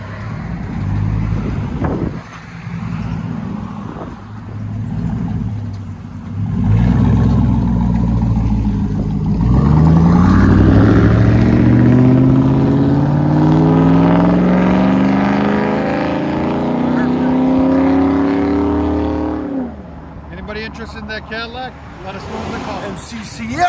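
A GMC Sierra pickup with a 4.8-liter V8 on a true dual straight-pipe exhaust revs loudly, rising through a long climbing wail that holds, then drops off abruptly near the end.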